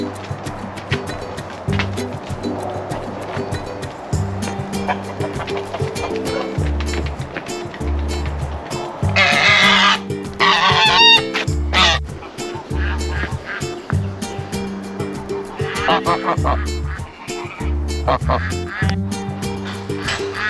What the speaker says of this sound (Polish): zobaczymy reakcję gęsi wszystkich, kaczek i owieczek